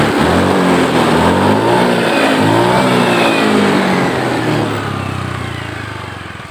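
Honda Beat FI scooter engine revving hard during a test, a loud, close, continuous buzzing drone that rises and falls in pitch, then eases off toward the end.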